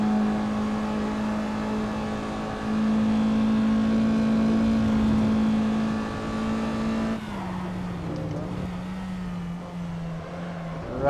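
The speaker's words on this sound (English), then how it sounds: "Right at the back bumper of Chris Cole now." Race cars accelerate on a track during a Saturday speed night, one engine drone rising and holding at a steady high pitch, then shifting and dropping as the cars close up, with faint crowd noise behind.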